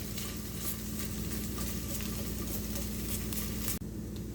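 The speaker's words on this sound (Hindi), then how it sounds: "लहसुन भी हमारा अच्छी तरह से फ्राई हो गया" Garlic and flour fry in a pan as an Indian-style chicken malai boti sandwich filling is made, giving a steady, loud, close sizzle with dense crackling patter that holds evenly throughout, with no voices.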